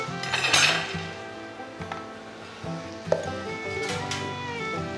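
Masala goes into tawa qeema cooking in a pan, with a soft sizzle and scattered metal clinks of a spoon against the pan, moderately quiet and steady, with no talking.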